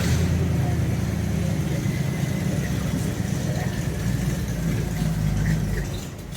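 A 1935 Ford hot rod engine runs close by with a loud, steady, low rumble that eases slightly toward the end.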